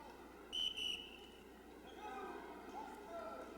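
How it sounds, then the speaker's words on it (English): A referee blows two quick, sharp whistle blasts at a 1997 Yosemite divisional high school wrestling championship at 140 lbs, fairly distant, followed by a low murmur from the gym crowd. "Double whistle by the ref."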